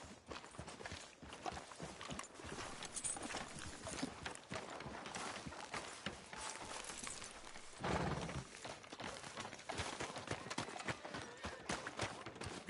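Rhythmic clip-clop of horse hooves in Red Dead Redemption 2 plods along steadily at a walking pace, fairly quiet, with a faint mechanical clatter mixed in.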